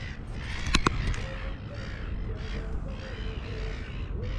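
Harsh caws from seagulls feeding over the sea off a land-based fishing spot at Portland, Victoria, Australia, a few loud calls near the start over steady wind and water noise.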